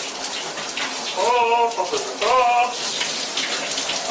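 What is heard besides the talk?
shower water running while working up a lather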